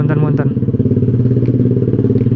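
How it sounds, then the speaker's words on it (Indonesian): A small motorcycle riding through traffic in Bogor hums steadily up close with a voice talking over it, a constant mid-pitched drone throughout. "Untung motor gua kecil jadi bisa nyalip."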